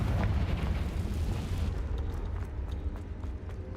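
A Confringo fire spell blasts in a Harry Potter video game, a loud, dense rumbling burst that fills the opening second and a half, then rolls into a crackling, sustained roar with scattered sharp pops.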